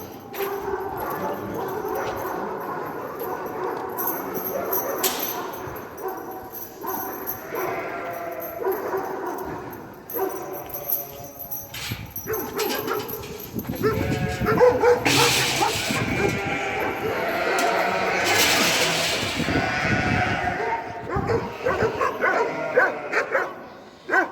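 Young puppies yip, bark and whimper in bursts, some cries shrill and close, growing busier and louder toward the end.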